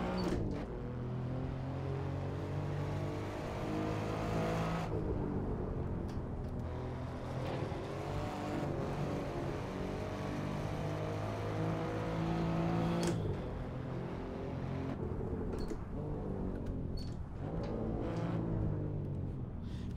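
Classic 1970s Ferrari race car in the Assetto Corsa racing game, its engine droning and shifting steadily through gears with sharp cuts on upshifts, loud and continuous throughout.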